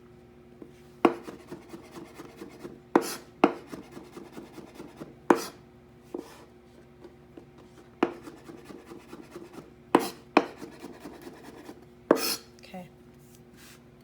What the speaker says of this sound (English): So just cut these mushrooms in half, thin slicing them.